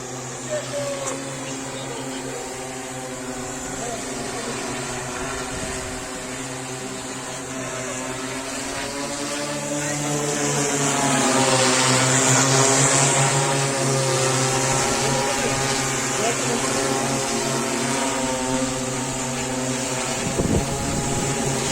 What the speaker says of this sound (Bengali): আমাদের স্যার ড্রোনটাকে উড়িয়ে দেখাচ্ছে কীভাবে ড্রোন ওড়াতে হয়